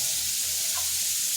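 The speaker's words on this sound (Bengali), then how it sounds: "কপিগুলো লাল লাল করে ভেজে নেব" Cauliflower florets frying in a pan give a steady, soft sizzle, close and fairly quiet, with a brief faint clink partway through and no voices.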